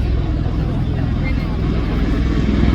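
A tilt-rotor aircraft takes off at the 2024 Central Coast Airfest in Santa Maria, California, producing a loud, continuous low-pitched rumble and throb that carries evenly through the clip.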